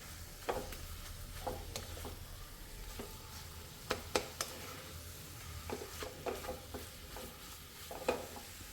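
Cooked banana being mashed in a pan for a jackfruit-seed and banana dish, a run of soft squelching, scraping strokes at an irregular pace over faint background hiss, close and fairly quiet.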